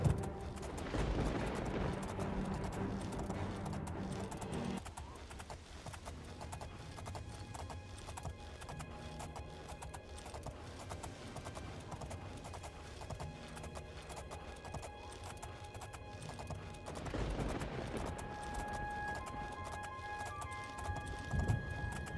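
Hooves clatter rhythmically as a horse is ridden in The Elder Scrolls Oblivion, a steady galloping beat running through most of the stretch with a few louder bursts.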